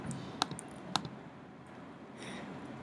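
Two sharp, close computer mouse clicks about half a second apart, followed by a brief soft rustle, in a quiet room.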